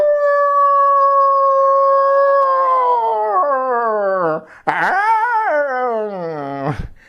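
A mimicry artist's voice imitates a dog, sustained howling tones that waver and bend upward, breaking into yelping whimpers near the end, close and loud with no separate talk.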